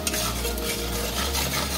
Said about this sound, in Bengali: ভালো করে এবার ভেজে নেব।